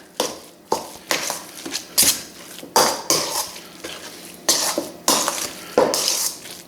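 Vegetables that were sautéed get stirred into a crab cake mixture in a bowl, with repeated scraping and clinking of a utensil against the dish in an irregular rhythm, close and fairly loud, with no talking.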